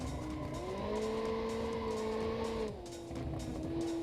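A rear-wheel-drive car drifts in BeamNG.Drive, its engine droning steadily while the tires squeal continuously, with a drop in engine pitch partway through as the slide carries on.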